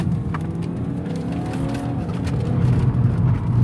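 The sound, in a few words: car pulling out of a junction and accelerating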